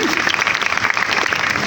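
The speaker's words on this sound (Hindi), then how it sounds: "पीछे वालों को समझ नहीं आई ये क्या है, जरा जोरदार तालियां" A short burst of loud, dense group clapping from an audience at a web development class, continuous and evenly packed throughout.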